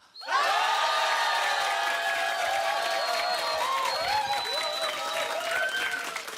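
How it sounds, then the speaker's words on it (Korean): A large concert audience at a radio family show bursts into a loud, sustained cheer with screams and applause that holds steady for several seconds. "셋 둘 하나 하면 함성 불러주시기 바랍니다"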